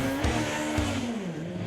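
A drag racing motorcycle runs down the track, its engine a loud, continuous roar whose pitch climbs and then slides lower as it pulls away, heard alone with no talk.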